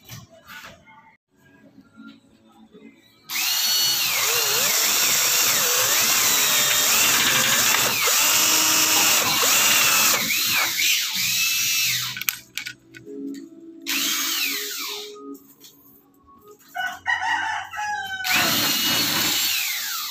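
A power drill driving gypsum screws into a wooden or metal sliding window jamb, with several loud whining bursts that rise and fall in pitch, separated by short pauses and handling noise, close by and with no talk.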